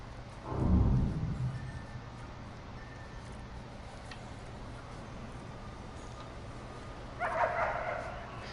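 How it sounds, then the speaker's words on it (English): A dog barks in the prison management game Prison Architect, a short burst of yips near the start with a fainter bark later, over a steady low hum of background game audio. "Dog smelt something just here"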